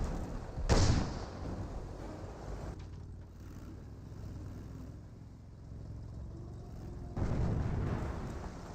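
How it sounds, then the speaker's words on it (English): Mortar shells landing in the Company of Heroes strategy game, two dull booming impacts, one early and one near the end, over a low rumbling battlefield background. "Heard a mortar hit there."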